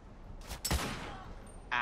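Gunfire in The Order: 1886 on PS4, a few sharp shots with one heavy blast standing out above a low, steady game-ambience bed, then a bright noisy burst at the very end.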